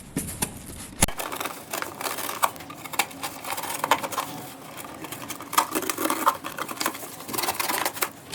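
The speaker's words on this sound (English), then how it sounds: "So now I'll cut the hole in the big box." Knife or blade cutting a hole in a big cardboard box, a steady scratchy sawing and crunching with irregular scrapes and taps, close and fairly quiet.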